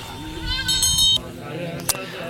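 Goats bleat during a Buddhist puja blessing at a monastery in Zanskar, with a couple of wavering calls close by over a murmur of voices and background bustle.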